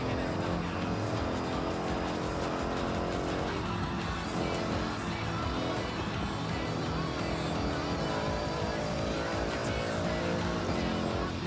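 Race car engine droning steadily in the Forza racing game, a continuous dense roar with no pauses throughout, faint voices low underneath.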